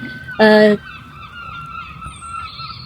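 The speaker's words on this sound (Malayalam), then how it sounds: "കിളികളുടെ ഒച്ച കേട്ടോ." A single loud goose honk rings out briefly near the start, followed by quieter outdoor ambience with faint distant bird calls.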